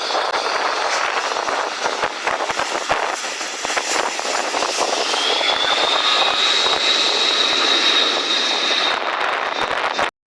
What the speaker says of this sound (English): land an aircraft like this C-130 Hercules